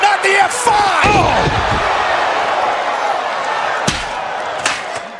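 A wrestler hits an F5 slam onto the ring during a live wrestling show, making a single loud thud near the start followed by a sustained roar of the arena crowd.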